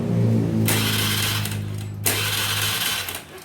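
A Honda Vario scooter engine starting and running, a steady close mechanical whir with a rattling, ticking top end, briefly interrupted then continuing, with no talk.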